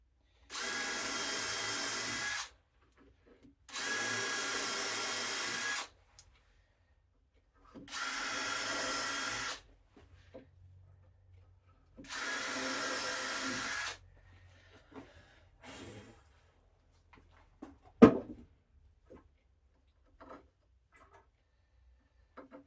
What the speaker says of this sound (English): I'll drill them in.